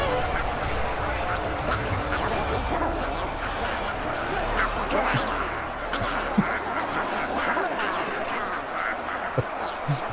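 A dense chorus of cartoonish duck quacks and honks from the battle game Ultimate Epic Battle Simulator 2, many overlapping calls sounding loud and continuous, with speech mixed in.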